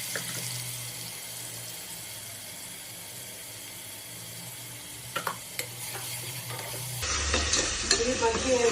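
Ground tomato and onion paste fries in a pan for a Telangana-style mutton curry, giving a steady low sizzle with a few scraping stirs. A louder, brighter burst of frying noise comes near the end.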